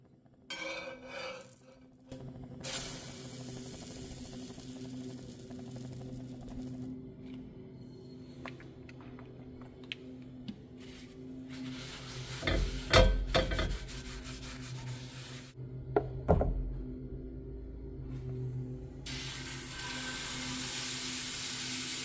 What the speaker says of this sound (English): My griddle's hot. I'm adding the batter right to the griddle.